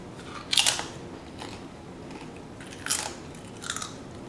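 A tortilla chip dipped into quinoa salad is bitten, giving a short crisp crunch near the mic, then a second crunchy bite and a fainter third one as the chewing continues, with no talking.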